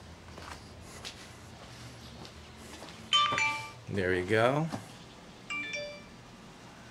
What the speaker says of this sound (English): let's test the notification from doorbell push to notification speed